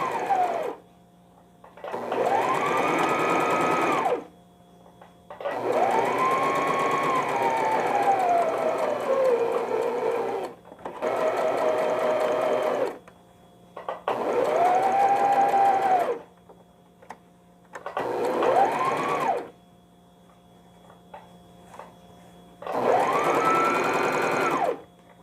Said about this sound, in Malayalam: ഇനി ബോട്ടം പീസ് പോളിഫൈബറുമായിട്ട് ചേർത്ത് അടിക്കുകയാണ്.